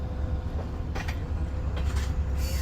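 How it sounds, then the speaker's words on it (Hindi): A train approaching Khanewal Junction, heard as a steady low rumble of rolling wheels and track noise with a few brief clanks, continuous and fairly close. "ZCU के साथ भी एक अदर ट्रेन अप्रोच कर रही है खानेवाल जंक्शन पर।"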